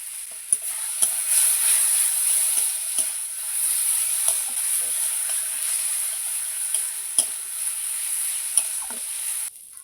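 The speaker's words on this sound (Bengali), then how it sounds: "আমি মশলাটা ভালো করে কষিয়ে নিয়েছি" Chili powder and spices fry in hot oil for a river fish curry, with a loud, steady close sizzle and occasional light taps of a spoon stirring the pan.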